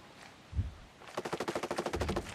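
Enemy gunfire in Ghost Recon Breakpoint: after a single dull thump, a rapid automatic burst of evenly spaced shots rattles out for over a second, fairly close and sharp.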